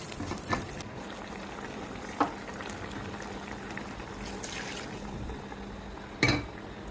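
Hot water simmers in a pan of roast with yogurt, nuts and raisins, giving a steady soft bubbling hiss broken by a few sharp clinks or pops, close and continuous with no talk.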